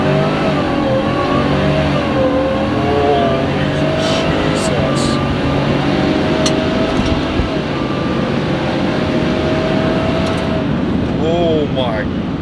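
A supercharged 2018 Ford F-150 V8 pickup with a Whipple Stage 1 supercharger accelerating hard in four-wheel-drive high, a loud continuous engine roar with rising whine heard from inside the cab, a voice speaking over it.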